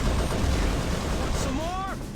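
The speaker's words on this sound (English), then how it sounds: "Grenades behind me, grenades in front of me." Grenade explosions and gunfire in the Halo SPV3 game, a dense loud barrage of blasts and shots that dies down toward the end, with rising whistling tones near the close.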